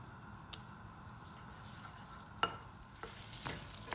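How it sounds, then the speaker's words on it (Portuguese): Butter melts and sizzles in a hot pan, a faint continuous crackling hiss with a few sharp clicks and spatters, louder toward the end. "Coloquei a panela aquecer. Vou colocar a manteiga."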